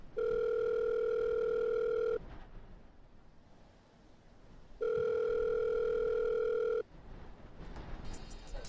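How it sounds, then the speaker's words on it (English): A telephone ringing tone in two long bursts, each about two seconds with a pause between, loud and clear over a quiet background with no talking. "I picked up my phone and called her."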